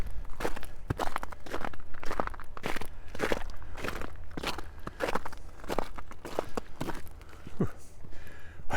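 Footsteps crunch steadily over frozen runoff on a sloped path in Regina's Harbour Landing neighbourhood in December, each step a sharp, gritty crackle in an even walking rhythm, close and clear with no talking.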